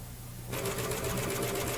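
A Simplicity Easy Lock serger stitches fabric up to an outside corner. After a brief quiet start it runs at a steady, rapid mechanical whir, close and continuous.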